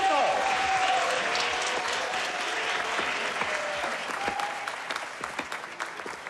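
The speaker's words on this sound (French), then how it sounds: "on les applaudit bien fort" A television game show audience applauds the first contestant with a dense, loud wash of clapping. It gradually thins and fades over about six seconds, with a voice faintly heard talking over it.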